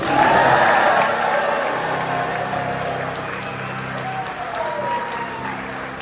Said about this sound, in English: please give a huge round of applause to Sky Princess team